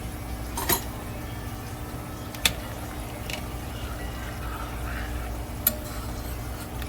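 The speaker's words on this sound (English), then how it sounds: "And stir that up." Macaroni pasta being stirred in a pot of one-pot hamburger macaroni, a steady low scraping churn with a few sharp clinks of utensil against the pot, no voices.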